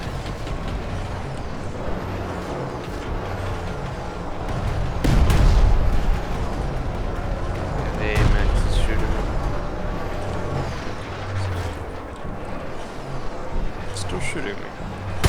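Heavy booming anti-aircraft fire from the Planetside 2 video game, with loud bursts around the middle and a rumbling, explosive wash beneath a steady engine-like drone, with someone talking over it.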